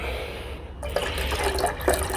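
A green-tinged liquid reagent for gold refining of 9K and 22K jewellery is poured into a container, a steady close watery trickle with a few small splashes, no talking.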